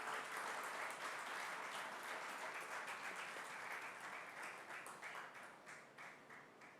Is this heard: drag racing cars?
no